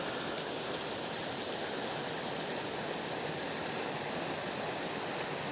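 Steady, dense rush of water pouring down small waterfalls, a constant broadband wash with no breaks and no voices, moderately distant.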